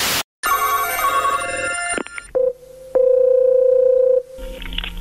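A telephone goes dead after a call is cut off: a ringing tone and then a click are followed by a long, steady dial tone. The tone is loud and close, and no voice is heard.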